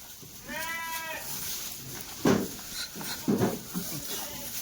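Goats of a Rajasthani breed bleat on a farm, one clear wavering call followed by two more bursts, with other livestock noise and faint voices in the background.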